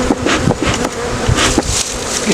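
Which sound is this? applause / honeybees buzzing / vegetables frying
honeybees buzzing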